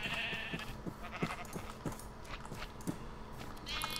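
Sheep in the Minecraft video game bleat in a run of short, evenly spaced calls against a soft, steady game background with faint chiming tones.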